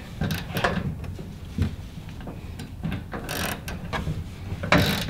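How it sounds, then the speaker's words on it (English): A hand ratchet clicks and turns as bolts are tightened on a Toyota Tacoma truck bed MOLLE storage rack, with uneven bursts of metallic clicking and clunks at close range. "take the ratchet to the back"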